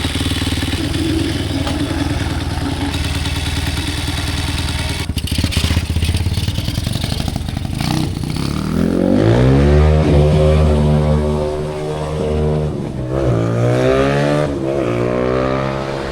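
A new motorcycle fitted with a 30mm carburetor revs hard and close, its engine note climbing and falling in strong harmonic sweeps over a steady running drone.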